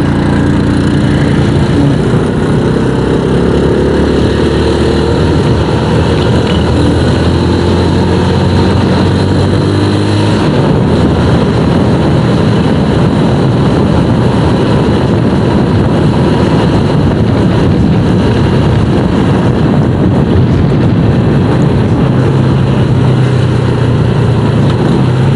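Yamaha Jupiter Z1 motorcycle geared 13T-41T making a top speed run, a loud continuous engine drone with steady wind roar throughout, the pitch shifting partway through as the rider changes gear.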